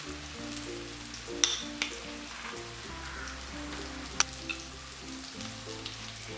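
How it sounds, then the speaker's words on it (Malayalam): Spice powder is stirred into frying onions in a pan for a Kerala fish curry: a soft, steady sizzle under background music, broken by two sharp scrapes of the spoon. "ഇതിൻ്റെ പച്ച മണം മാറുന്നത് വരെ ഒന്ന് ഇളക്കി കൊടുക്കണം"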